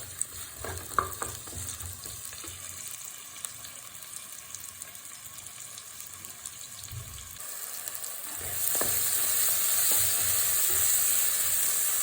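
Onions and tomato sauté in a pan with chili, coriander and turmeric powders for a fish curry masala, giving a steady close sizzle with occasional stirring scrapes that grows brighter and louder near the end, with no talking.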